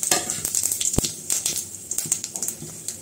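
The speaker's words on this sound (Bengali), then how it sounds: "এখানে এই যে কড়াইতে তেল দিয়ে দিছি, যে কড়াইতে আর কি সবজিটা ভাজছি, দিয়ে দিলাম তেজপাতা" Bay leaves, dried chillies and whole cumin sizzle in hot oil in a wok for winter vegetable khichuri, the crackle close and busy with sharp clinks and stirring scrapes.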